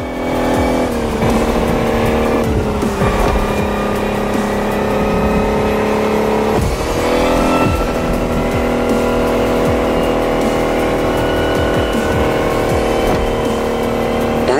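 An electric race car in The Crew Motorfest speeds through a stormy race with a loud, continuous whine that rises and falls in pitch over a steady roar, joined by occasional tire squeals and surging acceleration.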